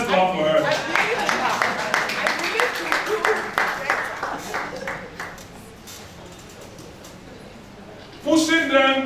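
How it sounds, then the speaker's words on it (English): An audience at a business summit claps for a new sponsor, a rhythmic patter of hand claps under and between a speaker's amplified talk, fading out before more speech. "Let's clap for her."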